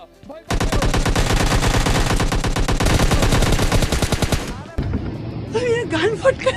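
Rapid automatic gunfire from the PUBG Mobile video game rattles loudly and continuously for about four seconds, then cuts off into quieter game effects and brief voice sounds.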